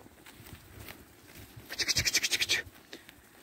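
Sheep and goats bleating while grazing on a grassy hillside, one close rapid quavering bleat rising out of quiet rustling and scattered faint animal sounds.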